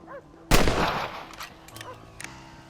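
A single loud rifle shot cracks in Red Dead Redemption, a sharp burst that decays over about half a second, followed by quieter ambience and faint later clicks.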